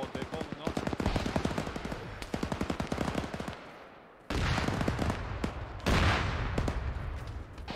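Rapid automatic rifle fire in the video game Arma 3, long loud bursts of closely spaced shots alternating with heavier sustained volleys, with voices talking over the firefight.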